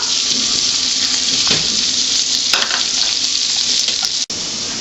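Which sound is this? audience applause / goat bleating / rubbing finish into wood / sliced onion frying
sliced onion frying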